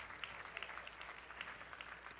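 An audience claps faintly from a distance, a brief scattered patter of hands at an indoor gathering.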